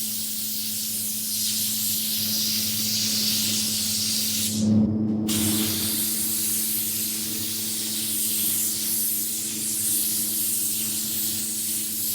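Automotive paint spray gun spraying paint onto a spray out card, a steady airy hiss running throughout with a brief louder burst partway through.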